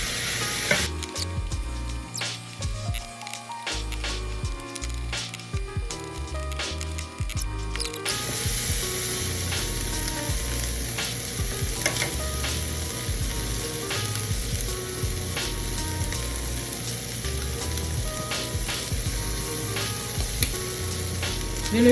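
Mixed vegetables with bacon fry in a pan. A dense, continuous sizzle runs throughout, with clattering utensil knocks over the first several seconds before it settles into an even hiss.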